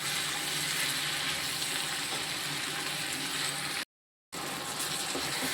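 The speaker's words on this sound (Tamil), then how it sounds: "நான் தக்காளி வெங்காயம்லாம் நிறையா போட்டிருக்கேன் இது நல்லா வதங்கட்டும்" Tomatoes and onions sauté in a pan with a steady dense sizzle and faint stirring, broken by a short gap of silence before it resumes.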